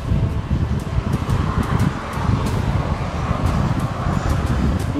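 Steady, rough wind buffeting the microphone while riding a road bike on an evening ride, a dense low rumble with gusty surges filling the whole moment, no voice.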